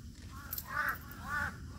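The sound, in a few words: crow cawing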